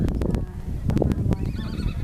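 A horse at Mount Bromo in Indonesia whinnies in short, shaky bursts amid outdoor crowd noise and nearby voices, with some sharp knocks and clatter around it.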